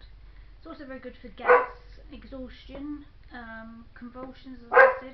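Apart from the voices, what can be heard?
dog barking at the door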